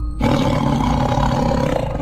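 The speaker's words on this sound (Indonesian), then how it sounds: "Suara meraung, keras sekali seperti suara macan." A loud, tiger-like roar bursts in after a brief silence and holds steady and raw for about two seconds, close and alone with no voices.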